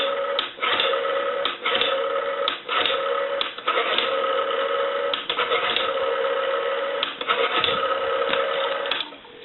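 Dialing a call on a vintage French-style metal telephone: a steady tone fills the line, broken by a series of brief, regular dips like rotary dial pulses, loud and close, with no talk.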